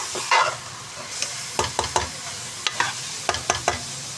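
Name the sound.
spice masala being added and roasted in a pan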